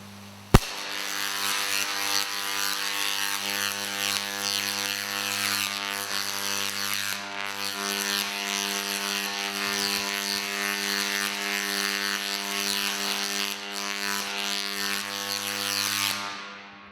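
Corona discharge from a 280,000-volt AC high-voltage installation: a loud, steady crackling hiss with a strong mains hum, broken by one sharp snap near the start and fading out at the end, with no talk.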